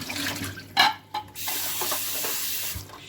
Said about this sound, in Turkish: Yumurtamızın suyunu dökelim.